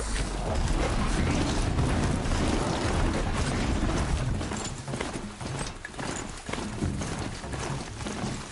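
A robot horse mount gallops in Horizon Zero Dawn, loud rapid clip-clop hoofbeats with mechanical clatter and rumble, fading slightly partway through.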